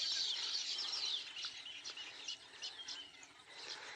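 Weaver birds calling with bright high chirps and tweets around palm trees outdoors, several short calls spread across the clip at moderate distance, with possible wingbeats as they fly off.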